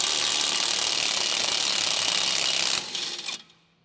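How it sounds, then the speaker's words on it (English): Tool with an 18mm deep socket loosening a sway bar link nut on a 2012-2016 Chevrolet Cruze, a loud, continuous mechanical whirring rattle for nearly three seconds, then a brief lighter burst before it cuts off and fades. "Use the 18mm deep socket to loosen the sway bar link nut."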